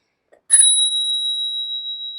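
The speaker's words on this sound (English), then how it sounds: "it's a beautiful looking bell, and it makes a beautiful sound" A Spurcycle bicycle bell mounted on a Brompton folding bike gives one bright, clear ding after a faint tap, then a long pure ringing tone that slowly fades, close and alone.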